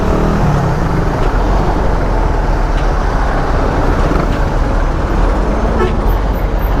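Dense, loud roar of busy evening road traffic heard from a Raider 150 motorcycle on a night ride, with a horn toot near the start and continuous engine and tyre noise from surrounding vehicles, including buses.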